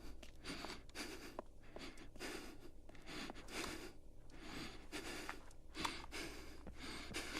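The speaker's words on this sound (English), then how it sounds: "you can hear that kind of sound cue of Mr. Black's breathing getting heavier as he almost gets detected" Heavy, rhythmic breathing cue from the Get Even video game, repeated gasping inhales and exhales in a steady cycle, close but fairly quiet, with no talking.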